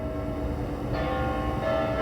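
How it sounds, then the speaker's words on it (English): A church bell rings the hour, a sustained, resonant tone with a fresh strike midway, moderately loud above a low indoor rumble and with no voices. "this bell's about to just go on for like a minute. Loud, just dun dun."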